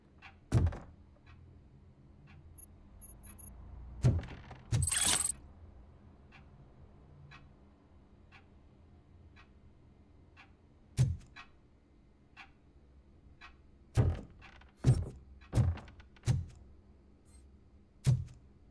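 A door in the RoboCop: Rogue City game gives a few heavy thunks and mechanical clunks, spaced irregularly with a short whirring burst early on and quiet gaps between.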